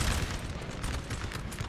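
Musket and cannon fire crackle densely through a Napoleon Total War battle at Aspern-Essling in 1809, a loud, continuous fusillade of overlapping shots with no pauses and no voices.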